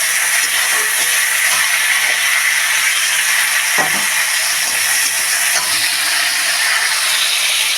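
Cut yardlong beans dropped into hot oil with popped whole mustard seeds give a loud, steady, close sizzle and hiss, with a brief stir or clatter near the middle and no talking.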